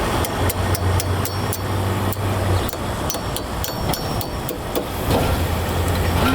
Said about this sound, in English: Once you get it started, you'll just tap it the rest of the way on.